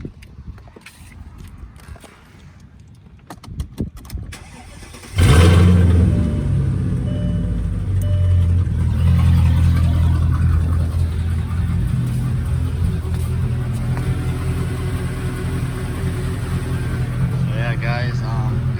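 A Mercedes-Benz CL500 engine cranks and catches about five seconds in, then settles into a loud, steady, close-up idle rumble. Light handling noises and footsteps come before it.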